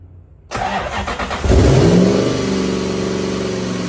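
A Toyota Soarer SC400's broken 1UZ V8 engine starts up close by and revs sharply, then holds a loud, steady roar.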